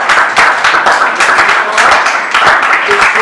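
An audience at a coaching talk breaks into steady, dense applause, loud and close, with many hands clapping continuously throughout.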